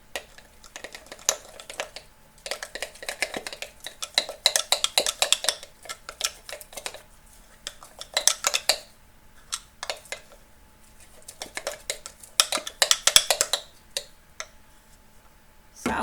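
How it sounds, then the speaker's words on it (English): A utensil stirs sourdough starter vigorously in a container, giving bursts of rapid scraping and clinking against the sides with short pauses between rounds, close and fairly quiet. "Now I'll give that a vigorous stir."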